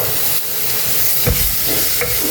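Tomatoes and salt sauté in a pan for a Kerala sardine curry, a close, steady sizzle broken by a couple of scraping stirs from a spoon.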